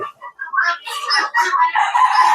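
Layer hens on a poultry farm cluck and squawk in a busy overlapping chorus, close and fairly loud, with short broken calls filling the whole moment.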